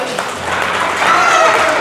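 Guests at an engagement party clap together in a dense, close wash of applause, with voices mixed in.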